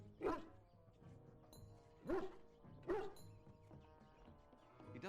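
A dog in the fantasy role-playing game Dragon Age: Origins lets out three distinct, fairly close barks, spaced about a second apart, over a quiet ambient game background.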